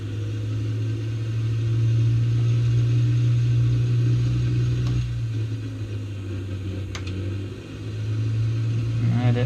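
A Cessna 172R engine run-up in a flight simulator game holds a steady low drone that dips briefly midway and again near the end, then settles back to a constant hum.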